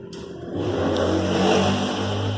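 A VW Fox car engine with an abnormal noise runs close by, rising in level after a moment and then holding a steady, loud hum with a faint irregular rattle.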